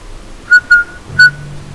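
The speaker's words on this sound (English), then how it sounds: "I'm whistling nonchalantly." A video game character in Dishonored whistles three short, clear tonal notes in a casual rhythm, loud and close, with a low hum entering near the end.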